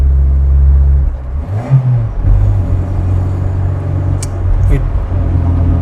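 A Tofaş Şahin car engine revs with a throttle blip during a gear change: a steady loud low engine drone, a brief rise in pitch midway, then a return to a constant cruising hum inside the car.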